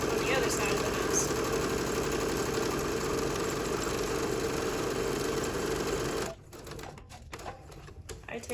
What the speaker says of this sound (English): keep sewing right off the end of the mask and sew together the strap on the other side of the mask